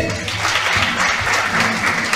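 A group of children clapping together in a lecture hall, a dense, steady burst of applause filling the space, loud and close throughout.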